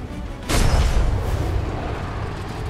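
Ship cannon fire in the Atlas pirate video game: a single heavy, close boom erupts suddenly, then a long rumbling roar and wash of noise trails off slowly.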